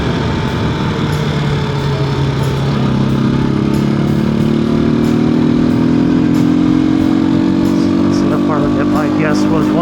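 Halcyon 250 motorcycle ridden in traffic on the road, its engine droning steadily and loud throughout with rising pitch as it accelerates, under wind and road noise, with a voice speaking over it.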